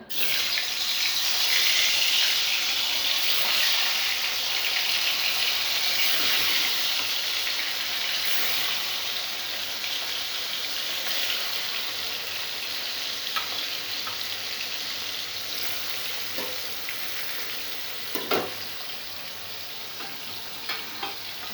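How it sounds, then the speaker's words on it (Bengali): Pangas fish fries in hot oil in a kadai with a loud, dense sizzle that eases slightly over time, broken by a few sharp spits and pops, no talking. "তেল গরম হয়ে গেছে এবার আস্তে করে দেবো যেহেতু পাঙাশ মাছ প্রচণ্ড ফাটে"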